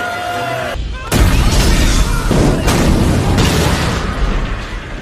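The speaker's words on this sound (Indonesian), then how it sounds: "memanjat komedi putar untuk menangkap Arun, ia pun segera kabur dan meledakkan komedi putar itu hingga menjadikan tempat tersebut kuburan" A carousel is blown up in the film The Warrior's Way: after a quiet moment a loud, deep explosion bursts out, followed by more rumbling blasts and debris that fill the rest of the stretch.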